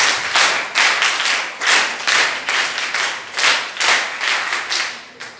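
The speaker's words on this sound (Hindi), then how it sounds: "ताली बजा।" An audience at a scouting and guiding performance by children claps in steady, rhythmic bursts, loud and close, with about a dozen strong swells of applause and no talking over it.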